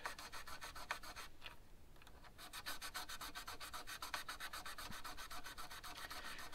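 Sandpaper rubs quickly back and forth across guitar frets in a fast, even rhythm of short, close strokes, with a brief pause partway through before the scrubbing resumes.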